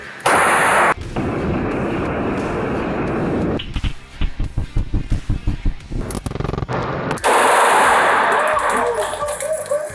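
Kriss Vector submachine gun firing full auto on a range, loud rapid bursts with a tight run of distinct shots in the middle, punctuated by gaps and other booming gunfire, with people talking.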